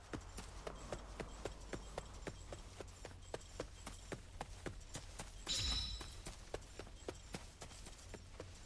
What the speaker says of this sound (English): Listening to the footsteps. They changed when she went into the grass.